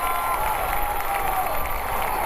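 A high school football stadium crowd during a San Angelo Central Bobcats versus Austin Vandegrift Vipers game keeps up a steady, dense roar of applause and cheering, broad and sustained with no pauses.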